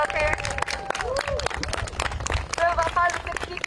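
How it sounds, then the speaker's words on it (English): Outdoor audience at a college student protest in Washington clapping to welcome a speaker named Frankie, a brisk burst of many hands with cheers and voices mixed in throughout. "So can we have a round of applause"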